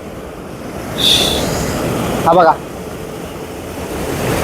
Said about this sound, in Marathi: ह्या धबधब्याला ना किती फ्लो आहे तुम्हाला दाखवतो मी